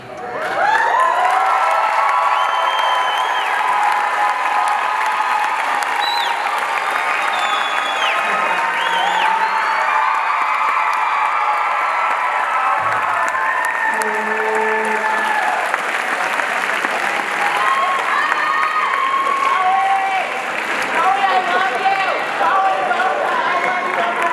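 Sustained applause and cheering from a large crowd at a Davinci Academy 2021 graduation ceremony, loud and continuous for over twenty seconds, with scattered whoops, shouts and voices mixed in.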